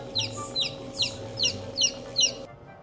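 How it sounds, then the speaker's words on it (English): Newly hatched chicks peep in a steady series of six bright, high chirps at an even pace, close by, over a low background hum that ends abruptly. "and you could hear chirping."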